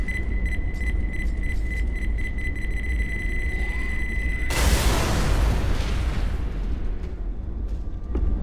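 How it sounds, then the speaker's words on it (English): A steady electronic tone plays for several seconds, then a Left 4 Dead 2 grenade explodes in a loud, close blast that rolls into a rumbling, crackling decay. "Grenade!"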